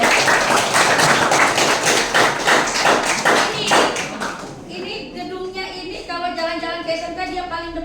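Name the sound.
audience clapping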